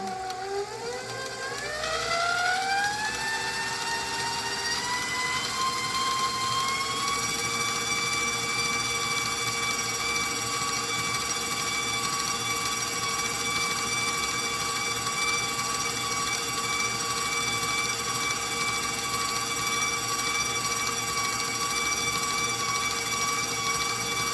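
A stand mixer running at higher speed whips cake pop dough, its motor whine climbing in pitch over the first few seconds, then holding a steady, continuous drone with no talk.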